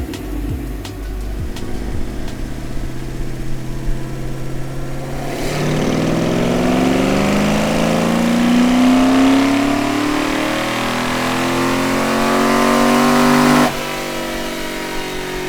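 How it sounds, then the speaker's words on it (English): A Shelby GT500E Eleanor on a dyno runs its exhaust through a full pull, idling then climbing in a long, loud, rising roar that peaks and cuts off sharply before settling back to idle. "We are going to do a couple pulls so you guys can hear what the exhaust sounds like and see how much power it makes."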